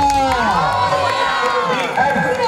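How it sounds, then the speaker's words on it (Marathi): A lively crowd cheers and whoops loudly at a village Paithani prize contest in Ghogaon, a continuous close roar of voices with shouting mixed through it. "जोरदार जोरदार जोरदार टाळ्यांचा गडगडाट"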